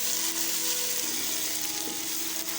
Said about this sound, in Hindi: 3 मिनट तक इसको हम फ्राई करेंगे।